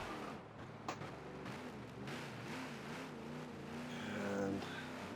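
Ford Falcon XB at full throttle leaving the pit lane at Sonoma in a Forza racing game, a steady loud engine drone with harmonic pitch sweeps as it climbs through gears, building slightly louder toward the end.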